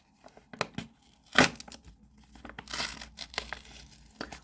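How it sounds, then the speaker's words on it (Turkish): Blind bag package torn open by hand: a sharp rip followed by scattered plastic crinkling and rustling, close and moderately loud, with no talking. "Efsanevi paketimiz. Bunu elimle açacağım."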